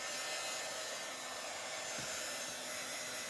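A hair dryer blowing on chalk paste applied through a Chalk Couture transfer, a loud, steady, close-up whoosh that runs without a break and drowns out everything else.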